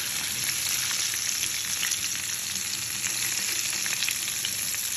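Marinated chicken pieces fry in hot oil, giving a steady, close crackling sizzle with faint stirring, continuous throughout with no talking.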